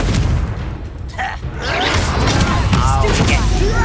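A Confringo blasting spell bursts in the Hogwarts Legacy video game, a loud booming explosion with crashing debris and whooshing energy that fills the full few seconds at high level.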